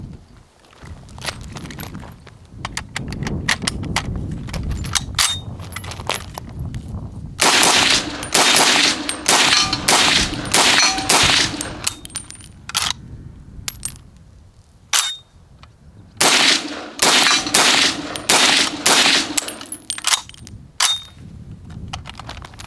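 A WW2 Saginaw M1 Carbine fires live Aquila rounds outdoors in sharp, loud reports, some spaced and some in quick strings, with metallic clinks of falling brass between groups.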